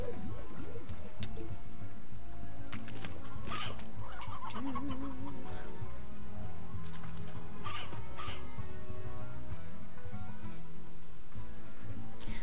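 Hens cluck in short, scattered bursts in the video game Slime Rancher, over a steady low background hum with occasional ticks.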